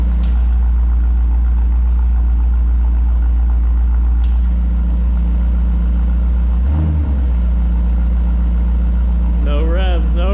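A BMW X5M fitted with a Dinan exhaust idles steadily and loud from start to finish, a deep continuous rumble with people talking over it near the end.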